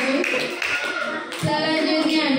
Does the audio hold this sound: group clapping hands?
yes